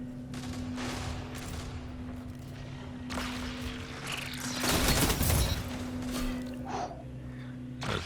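Gunfire in a Destiny Trials match: scattered weapon shots and a brief louder flurry near the middle, over a steady low game hum, moderately loud with no talking.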